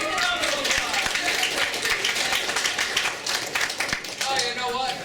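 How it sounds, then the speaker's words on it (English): Audience members at a workshop applaud together in a dense, even round of clapping that lasts a few seconds and fills the room. "Give him a round of applause."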